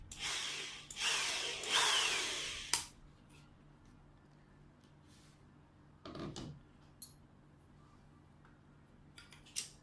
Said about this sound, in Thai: ส่วนด้านบนนี้ผมจะเจาะเพิ่มอีกรูนึง เพื่อการง่ายในการแกะ